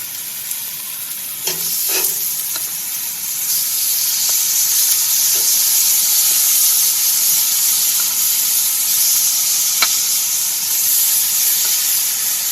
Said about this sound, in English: so I'm going to go ahead and put the shrimp in